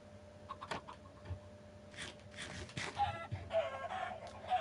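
Minecraft chickens cluck softly in a game, several short clucks scattered over quiet background sounds, faint and without voices.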